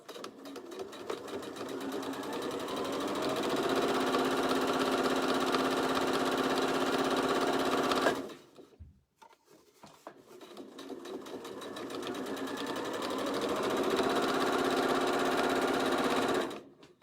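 A sewing machine runs a running stitch along an Easter bag, two long steady bursts of rapid mechanical whirring close by, separated by a brief pause around the middle, with no talking.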